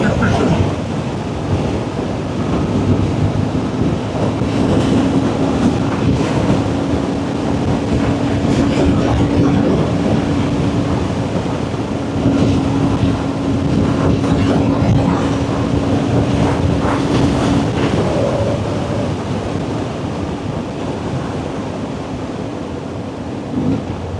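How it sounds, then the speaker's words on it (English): Steady, roaring wind at Long Lake buffets the microphone throughout, a dense continuous rush with a low drone underneath. "Very, very windy."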